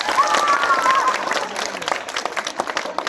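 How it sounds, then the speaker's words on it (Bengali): Schoolchildren clap together in a dense burst of applause for scholarship exam results that gradually thins out, with a faint whistle near the start. "আমাদের এই ফলাফলের জন্য সবাই জোর একটা করতালি দাও।"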